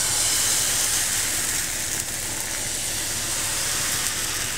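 Crepe batter sizzles in a hot frying pan on a stovetop, a loud, steady crackling hiss that holds close and constant with no talking.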